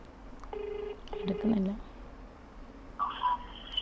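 A telephone call placed with the handset held close to the microphone: steady dialing tones sound in two short bursts, a voice talks briefly, then a fainter electronic ring or beep follows near the end.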